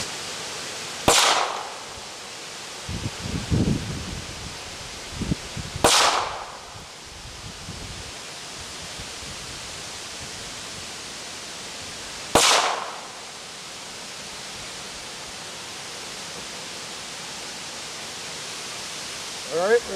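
Three sharp cracks from a scoped Ruger MKIII .22lr pistol ring out several seconds apart outdoors in wind noise, with someone talking quietly between shots.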